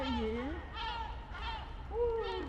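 Seagulls in Marseille give several harsh, rising and falling calls in close succession, fairly loud and near, over a steady low background rumble.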